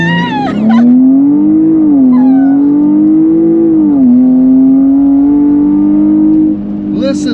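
A 2021 performance SUV engine with air suspension, driven in Sport Plus mode, pulls with a steady rising and falling drone that climbs, dips at shifts and holds, loud and close, with voices talking at the start and end.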